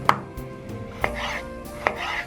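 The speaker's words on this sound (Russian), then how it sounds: "Помидоры тоже нарезаю просто вот так дольками." Three sharp knife chops cut a tomato into wedges on a cutting board about a second apart, crisp and close, with no talking.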